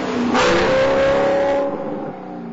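An Alfa Romeo 8C's V8 engine revs hard and loud, its exhaust note rising then easing off as the car pulls away.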